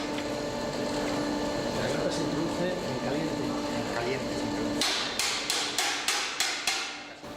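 A blacksmith hammers a Romanesque-style wrought iron grille joined with clamps instead of welds; a voice talks over workshop noise before about six sharp, evenly spaced metal strikes ring out near the end.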